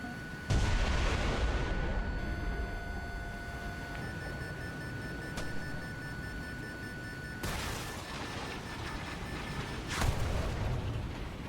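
Missile launches and booming fire in the combat game War Thunder, several heavy blasts spread across the stretch with a rumbling roar between them and engine tones underneath, fairly quiet overall.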